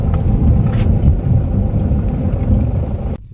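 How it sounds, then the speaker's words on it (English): A noisy cam adjuster magnet on an Audi A3 engine, a steady close rumbling engine drone with a fine mechanical clatter running throughout before cutting off abruptly at the end. "the cam adjuster magnet, I had previously replaced it, and it is currently making a lot of noise"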